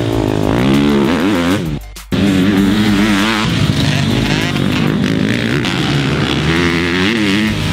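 A loud 2020 Husqvarna FC250 four-stroke dirt bike engine revs hard and continuously up close, with one brief cutoff of the throttle before it roars back.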